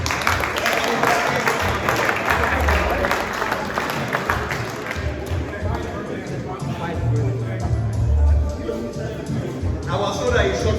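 Sustained crowd applause at a golf tournament awards reception, dense steady clapping from a room of guests lasting the whole stretch with some chatter mixed in.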